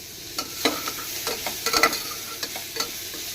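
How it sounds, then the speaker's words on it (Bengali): A small dried red chilli tempering in hot oil for khichuri, a soft sizzle with a scatter of sharp scraping stirs and clicks of a spoon against the pan, close and without talk. "তেল দিয়ে সামান্য ছোট্ট একটা শুকনো লঙ্কা ফোড়ন দিয়ে"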